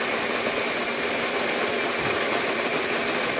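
Olayks electric conical burr coffee grinder running through beans, a steady dense whirring grind held at constant loudness from start to finish with no talk over it.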